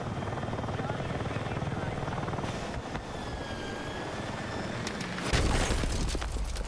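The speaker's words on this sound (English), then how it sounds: "Instantly tow missiled." In the video game Battlefield 6, a TOW missile strikes a vehicle: a steady helicopter-like rotor drone runs throughout, then a single sharp, heavy blast bursts near the end.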